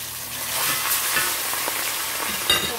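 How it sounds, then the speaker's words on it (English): Snapper and jack fish fry in hot oil in a pot with a close, steady sizzle, crackling with small pops and spits and one sharper burst near the end. "I'm gonna let those two fry"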